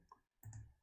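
A computer mouse clicks sharply while selecting a cell in an Excel spreadsheet. The clicks are quiet and close, with no voice.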